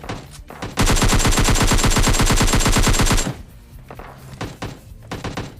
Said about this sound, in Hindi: जहाँ से ये गन शॉट की आवाज आई थी ना एकेएम की